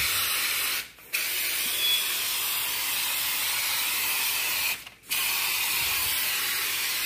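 Wall texture spraying from an aerosol can indoors, two long steady hissing bursts close by, each broken by a brief pause, with no voices.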